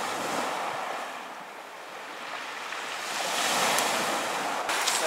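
Sea waves wash onto a shore at night near Vladivostok, a steady broad rush of surf with gusts of wind on the microphone, swelling slightly toward the end.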